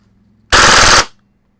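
An FMG9 airsoft gun fires one fast full-auto burst of about half a second during a chrono check, loud and close, then stops abruptly.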